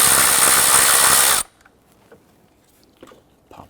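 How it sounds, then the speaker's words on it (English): A power tool whirs loudly and steadily for about a second and a half while loosening a 10mm bolt on a 4.0L V6 Nissan Frontier, then cuts off, leaving faint clicks and handling noises. "Loosen and remove the 10mm bolt here."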